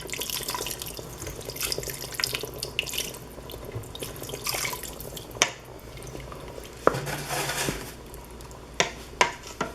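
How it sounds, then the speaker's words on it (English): Water running from a kitchen tap while a ladle is rinsed in the sink, a steady splashing trickle with occasional light clinks of metal, close and fairly soft. "Just going to clean up my ladle, clean up the sides."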